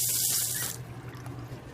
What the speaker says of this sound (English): or something as simple as turning on a water faucet